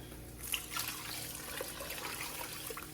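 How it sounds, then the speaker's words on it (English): Water poured into a pot of chili seasoned with pepper, cumin, salt, chili powder and garlic, a steady splashing and trickling heard alone at moderate loudness for a few seconds. "And then I'm going to add water"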